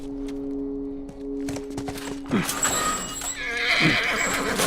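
A horse whinnies loudly over hoof clip-clops, with a voice speaking in the background, in the video game The Last of Us.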